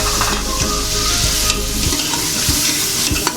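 Spices sizzle and fry in a pan with tomato, ginger, garlic and onion while a spoon stirs and scrapes through the mixture, a loud, steady crackle with intermittent scraping strokes and no voices.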